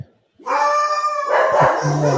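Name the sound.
dogs barking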